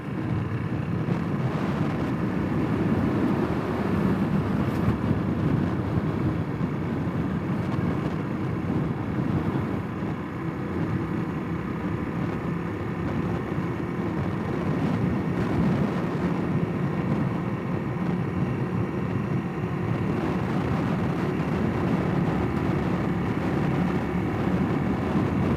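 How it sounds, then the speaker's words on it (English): Strong wind roars steadily into the microphone while riding a Honda CRF300L motorcycle on a road, a loud continuous buffeting rumble mixed with engine drone and no talking. "we had to turn off on the road here because the wind is so bad it's ridiculous"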